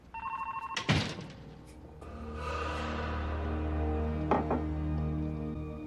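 Telephone ringing indoors in a drama scene, an electronic ring heard at the start and again near the end over a hum, with a thump and other room noises between the rings and no speech.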